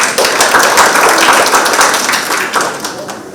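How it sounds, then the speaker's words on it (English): An audience at a conference session gives a round of applause, a dense wash of many hands clapping steadily, loud and close, fading slightly toward the end. "Can we give another round of applause"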